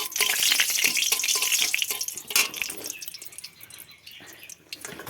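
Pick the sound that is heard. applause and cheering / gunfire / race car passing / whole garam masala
whole garam masala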